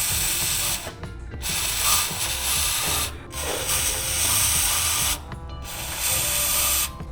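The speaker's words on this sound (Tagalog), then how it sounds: "gagamit ako ng chain cleaner para tanggalin yung mga grasa sa loob" Chain cleaner sprayed into a motorcycle suspension linkage bearing to flush out old grease on a Suzuki GSX 150: three long, loud hissing bursts separated by short pauses, close to the nozzle.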